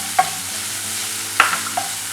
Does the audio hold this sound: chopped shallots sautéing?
yes